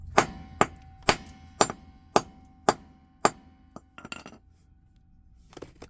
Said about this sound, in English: That's why I'll just continue to hammer it.